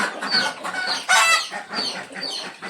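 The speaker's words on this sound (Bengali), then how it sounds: "এই পাশে হাঁসগুলা এক সাইড করে আছে, একটু ডিম পারে, ডিম পাড়া হাঁস" A flock of egg-laying ducks on a farm calls in quick overlapping bursts of quacking, close and moderately loud, with no speech.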